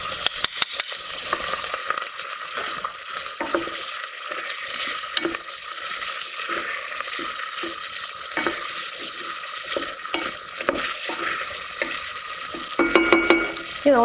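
Onion, garlic and ginger sizzle steadily in a hot pan, a dense frying hiss with occasional stirring scrapes and clinks, close and continuous.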